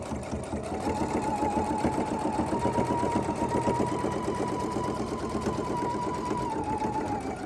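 Husqvarna Viking sewing machine fitted with a narrow zipper foot, running a continuous stitching pass with a steady rapid needle rhythm that rises slightly in pitch mid-run, close and loud with no talking.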